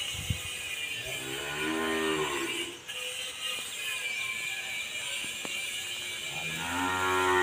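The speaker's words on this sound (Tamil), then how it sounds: "மாடு நல்லா பருமாடுங்க, நல்ல கனம் மாடு" A heavy dairy cow in milk, offered for sale at a farm near Idikarai, Coimbatore, moos in long drawn-out calls at the start and end, with quieter lowing in between.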